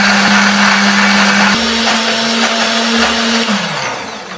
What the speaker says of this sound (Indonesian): Masukkan dulu ke dalam blender, tambahkan kemiri, bawang putih, bawang merah, kunyit, jahe, tambahkan sedikit air supaya lebih gampang untuk menghaluskannya.